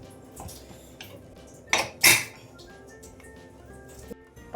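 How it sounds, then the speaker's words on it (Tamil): A pressure cooker lid is closed with two quick metallic clanks close together, sharp and bright against a quiet kitchen background. "குக்கரை மூடிக்கிடுவோம்"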